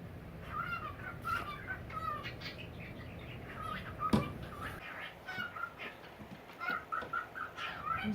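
Male greenhouse frogs in a bioactive terrarium give short, bright chirps in scattered repeated bursts, moderately close over a soft background hiss.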